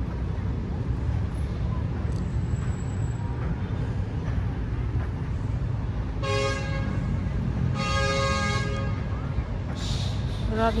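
A vehicle horn honks twice in long blasts over steady road and engine noise, fairly close.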